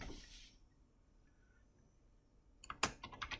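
Keys on a computer keyboard clatter in a quick burst of several clicks near the end, after a soft hiss and near-silence, close and fairly faint as a command is typed.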